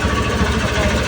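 A tour boat's engine room on the way to Tanguar Haor holds a close, loud, steady low engine throb with rhythmic chugging pulses throughout.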